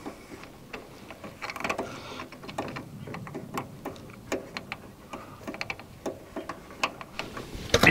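A part being screwed by hand onto a Stahlwerk 175A MIG MAG MMA welding machine gives close, quiet ticking and clicking of threads and plastic over about eight seconds, irregular and with no voices.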